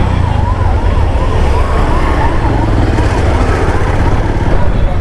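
Ambulance siren passing along a road in traffic, a loud wailing rise-and-fall tone over heavy engine and road rumble, continuous throughout.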